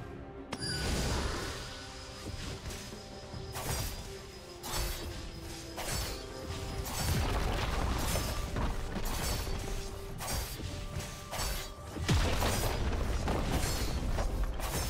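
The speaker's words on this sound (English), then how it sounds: "Red team's turret has been destroyed." A League of Legends turret crumbles in a dense burst of crashing, shattering and clanking game effects, layered with repeated metallic impacts and booms that keep the mix loud and busy for the whole stretch.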